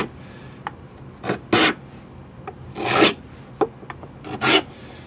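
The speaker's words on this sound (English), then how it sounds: "just by taking my four-way rasp, and I'm just making a pass as I spin this thing" Four-way rasp filing a spinning powder horn: a series of short scraping strokes with several longer, louder passes, close and alone.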